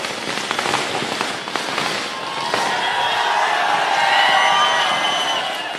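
Firecrackers crackle and pop in a dense, irregular burst of sharp bangs at a political rally, with a crowd murmuring and a rising hiss in the background.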